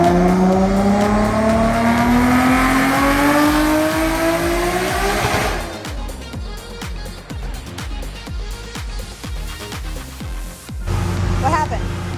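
Nissan RB25DET NEO engine in a 240SX revving up on a dyno, a loud rising tone that suddenly breaks off as the clutch slips, followed by clattering and mechanical noise with people reacting nearby.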